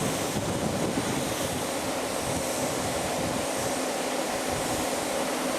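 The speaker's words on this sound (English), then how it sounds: "Come on, wind, blow." Steady outdoor wind roars in a broad, continuous rush with buffeting on the microphone, mixed with surf-like water wash, loud and unbroken throughout with no voices.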